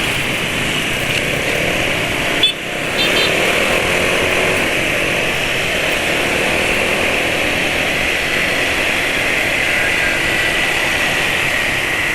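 A car engine idles and runs at low RPM, a steady droning hum with a faint whine, close and continuous, broken once by a brief click.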